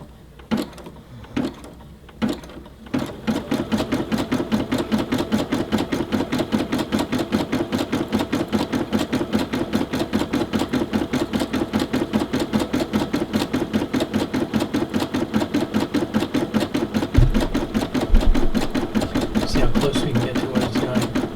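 A Brother SE600 embroidery machine starts with a few separate clunks, then settles into a steady, rapid mechanical stitching rhythm that runs on and on. A low thump from the thread cutter lands near the end.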